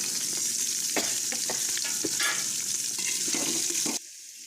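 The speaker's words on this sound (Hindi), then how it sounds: "ये प्याज मैं डाल दी हूँ तड़का में।" Large-cut onions sizzle and crackle in hot tempering oil for handi mutton, steady and close, with stirring clatter, then the sizzle abruptly drops to a quieter hiss near the end.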